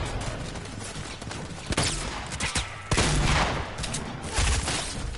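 AK rifle shots in a shooter video game ring out as several sharp cracks and quick bursts against steady background noise, with no one talking.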